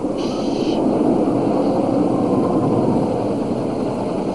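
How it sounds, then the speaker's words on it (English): A steady, loud engine drone suggesting a helicopter approaching, a continuous low rumbling wash with no breaks, heard alone without voices. "Sounds like a helicopter."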